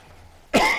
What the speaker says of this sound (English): I've been fighting a cough for months